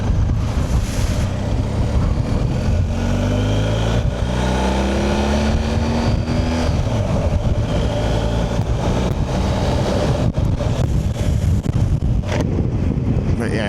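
Strong wind blowing across open ground on Orkney, roaring and buffeting the microphone steadily throughout, with a low engine hum underneath.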